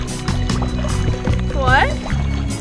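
A canoe paddled with a single paddle on a Wisconsin lake: soft, rhythmic water strokes and light sloshing, close by, mostly under people talking.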